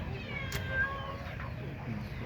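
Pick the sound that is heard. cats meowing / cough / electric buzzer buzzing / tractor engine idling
cats meowing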